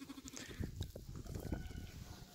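Soft bleats from sheep nearby at a farm, faint and quiet, with short broken calls and some low shuffling, no talk.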